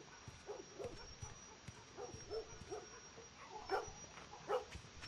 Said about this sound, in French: Le chien va se calmer là dehors.